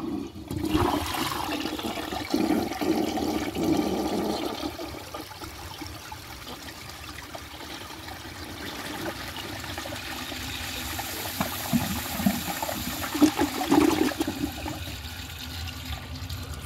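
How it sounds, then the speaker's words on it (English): A Cadet toilet flushes during a dry bowl test, a loud rushing gush of water at the start that settles into a steady swirling drain and refill trickle, with a brief surge near the end. "Flush is still pretty nice."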